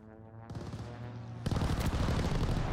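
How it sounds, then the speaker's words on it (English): An allied airstrike strafing run in Call of Duty Vanguard sounds as a rolling hum that gives way to a loud, sustained rattle of rapid fire and impacts. "Strafing run incoming. Allied airstrike."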